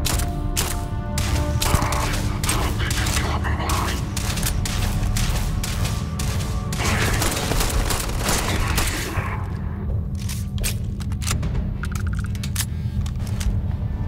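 Sustained gunfire in the space game Starfield, dense volleys of shots and booms running loud and continuous for most of the stretch before easing into scattered bursts near the end.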